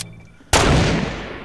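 A single loud gunshot erupts in a Fortnite match after a short quiet lead-in, a sharp, close crack that rings out and decays slowly, with no talk over it.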